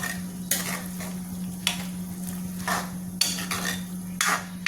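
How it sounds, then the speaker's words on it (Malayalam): Onion and beetroot pickle is stirred in a pan, with repeated scraping strokes of a spoon against the metal every second or so over a low steady hum and faint sizzle. "ഒന്ന് ഇളക്കാം ഒന്ന് ഇളക്കി ഇളക്കിയെടുക്കാം"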